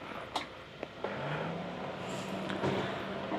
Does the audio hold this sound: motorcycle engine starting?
yes